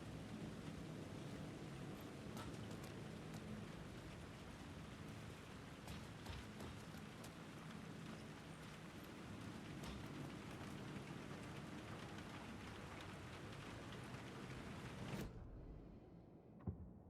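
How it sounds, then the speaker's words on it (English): Heavy rain pours continuously in the video game Alan Wake 2, a dense, even hiss with occasional sharper drops and faint thunder-like rumbles, steady throughout before cutting off abruptly near the end. "it's raining like a motherfucker outside right now"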